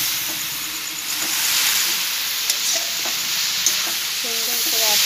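Grated coconut cooking in a pan for narkel naru, stirred with a utensil, giving a continuous soft sizzle with repeated scraping strokes and small clinks against the pan, close and steady with no talking.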